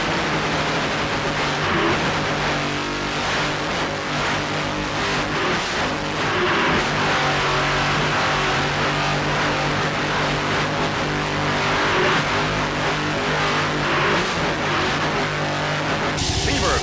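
A 900-horsepower turbine-powered inboard offshore race boat in a 1996 race roars continuously under throttle, a loud, dense engine drone that stays steady close to the onboard position for the whole stretch.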